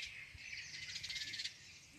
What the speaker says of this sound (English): It's just the sound of a bird.